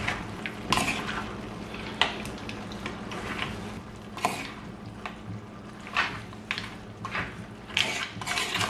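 Mutton rib curry is stirred in a pot, with repeated scraping and knocking of a utensil against the metal at irregular intervals over a soft, wet bubbling background.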